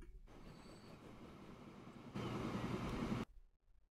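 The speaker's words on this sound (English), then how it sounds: "And now we're going to ride this train." A train rolls along in the Transport Fever 2 video game, a steady rumbling clatter of wheels on track that grows louder for a second before cutting off, no voices.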